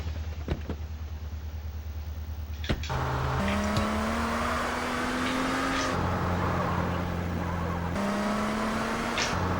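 Engine of a Banshee sports car in GTA San Andreas, revving up through gear changes with rising, stepped whines after a brief idle, steady and fairly loud with tire noise, no talking.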